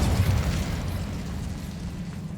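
The Incendio fire spell from the video game Hogwarts Legacy bursts as a loud, low rumbling whoosh of flame that starts strong and slowly fades over a couple of seconds, with no talk.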